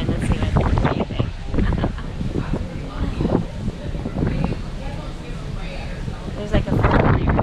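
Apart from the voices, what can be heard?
wind blowing on a cruise ship deck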